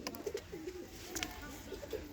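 Pigeons in a loft coo softly, with several low throaty calls at intervals, faint and close, over a quiet background.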